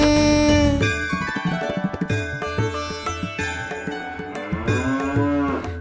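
Cow mooing in a children's Tamil song, several long drawn-out lowing calls set against cheerful instrumental music with a rhythmic beat.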